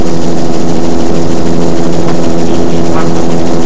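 A helicopter filming a triathlon course at Bundoran, Ireland, drones loudly and continuously with a steady rotor throb and engine whine, close and dominant throughout, with a faint voice underneath.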